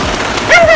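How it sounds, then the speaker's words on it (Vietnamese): Rain on a Saigon afternoon, a brief burst of dense patter close by with a sharp tonal squeak near the end. "trời cũng đã mưa"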